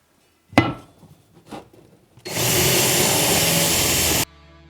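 A power tool drives lag screws into a single wall stud while a PRx Profile home gym rack is mounted. A few sharp knocks come first, then a loud, steady whirring burst lasts about two seconds and stops abruptly.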